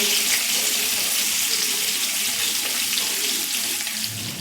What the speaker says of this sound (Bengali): এবার ঢাকা দিয়ে দিয়ে এগুলো ভেজে নেব।